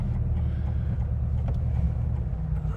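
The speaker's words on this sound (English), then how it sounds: "We're going to warm it up and put it through its paces" A 1963 Porsche 356 Carrera 2 Coupe engine idles steadily while warming up, with a deep, even low-frequency rumble, close by and continuous, with no voices.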